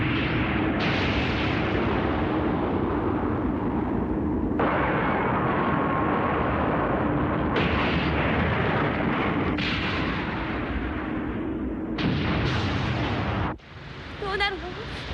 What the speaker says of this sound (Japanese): あいつが腐食しているブロックを砲撃してるんだ。